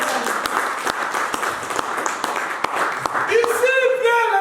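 A church audience applauds loudly during a sermon on forgiveness and freedom, continuous clapping throughout with sharp individual claps standing out, and a sustained musical tone entering near the end.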